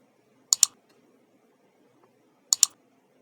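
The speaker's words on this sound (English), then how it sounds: "So I'm just clicking on edit." A computer mouse clicked while editing a published WordPress blog post: two quick double-click bursts, about two seconds apart, sharp, close and isolated over a faint quiet background.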